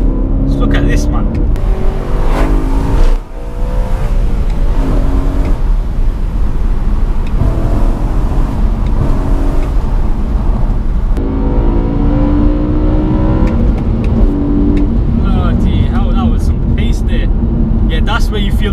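BMW M3 E92 with its over-400-horsepower engine pulling hard on a mountain road, a loud sustained roar with rising revs and gear changes heard from inside the cabin, under someone talking excitedly.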